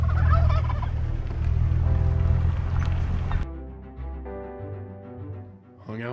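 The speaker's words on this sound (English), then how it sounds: "Saw lots of turkeys." Turkeys gobble loudly and repeatedly in a noisy chorus, a dense burst of calls that thins out into scattered gobbles partway through.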